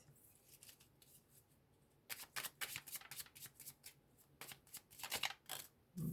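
Gaia oracle cards being shuffled and drawn by hand, heard as quiet, close, rapid riffling bursts that turn denser and louder partway through, with no talking.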